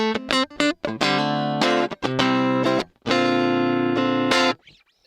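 A dry, unprocessed electric guitar played directly through a Quad Cortex, with a few short choppy stabs followed by longer ringing chords, clear and close with no talking.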